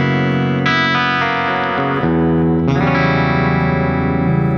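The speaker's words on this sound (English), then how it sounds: "Then I have a clean tone." Electric guitar with a clean tone through a Pliny amp plugin rings out sustained chords that change a few times, steady and full with no other sounds.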